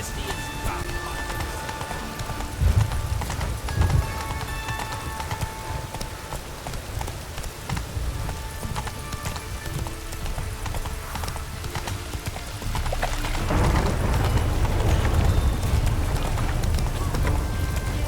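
Roach, a horse in The Witcher 3, gallops in a fast drumming clip-clop of hooves, loud and close, over a rushing wash of rain or wind that swells near the end; a voice speaks briefly.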